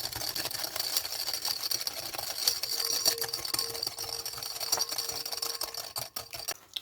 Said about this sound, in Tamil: ரெண்டுத்தையும் நல்லா ஆட் பண்ணிவிட்டு ஹேண்ட் பீட்டர் வச்சு 1 மினிட் நல்லா பீட் பண்ணிக்கோங்க